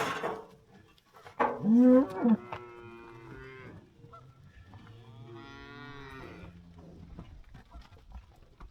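Cattle in a farm pasture where bulls are being turned in with breeding cows: one loud, close moo rises sharply, followed by several softer, drawn-out lowing calls farther off, with no voices.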